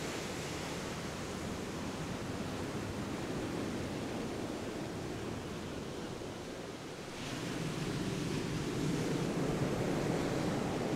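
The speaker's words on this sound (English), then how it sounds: "Let's hope the waves don't get me." Steady roar of ocean surf washing onto a beach at Bridlington, Yorkshire, continuous and fairly loud, swelling slightly midway, with no voices.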